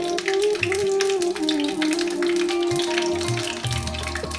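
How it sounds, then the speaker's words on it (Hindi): Chicken shami kababs frying in a shallow layer of oil in a pan, a constant close crackling sizzle with popping spatters, alongside a steady tonal hum, with no talking. "मैं थोड़े से कबाब अभी फ्राई कर रही हूँ"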